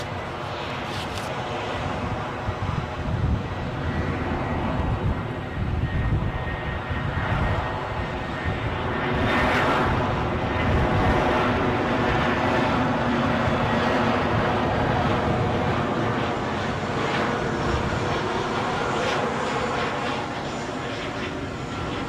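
An Airbus A320 arriving at Edinburgh Airport from London Luton makes a steady, loud broadband engine roar that swells near the middle and then holds, close by and continuous for over twenty seconds.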